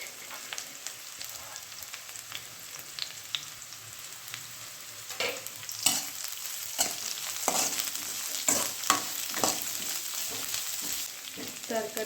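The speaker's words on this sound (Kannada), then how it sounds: "ಇವಾಗ ಕೋಸನ್ನು ಹಾಕ್ಕೊಳ್ತಾ ಇದ್ದೀನಿ." Shredded cabbage for noodles fries in a pan, a steady light sizzle with clustered scraping and stirring strokes that grow louder and busier toward the end, close by, no voices.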